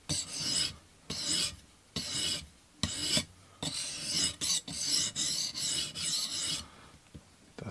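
A TRC XS Splinter fixed-blade knife is drawn across a TSPROF Blitz Pro sharpening stone in steady rasping strokes, each lasting about half a second with short gaps between, close and fairly loud with no talking.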